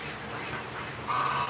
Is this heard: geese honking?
yes